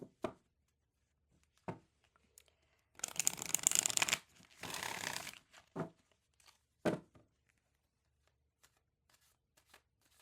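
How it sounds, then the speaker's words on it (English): Oracle cards are shuffled and pulled up close in a quiet room: two brisk riffling bursts of a few seconds each, with scattered soft taps and flicks before and after. "We're going to go ahead and pull some more oracle cards to get the vibe of this thread."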